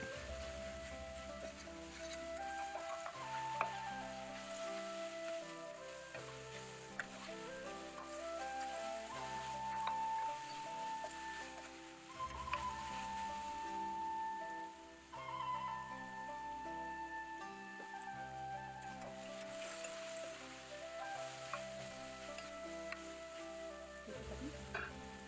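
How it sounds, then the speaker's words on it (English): Sliced onion, hot pepper and scallions sizzle steadily in a hot pan while being stirred for chicken and broccoli with garlic sauce, a continuous frying hiss with occasional clinks of the utensil and no talking. "Next in goes the sliced onion and the hot pepper and a little bit of the scallions, and you will stir well until the onion becomes translucent."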